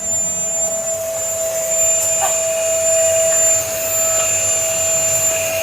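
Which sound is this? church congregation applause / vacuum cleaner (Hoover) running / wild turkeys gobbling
vacuum cleaner (Hoover) running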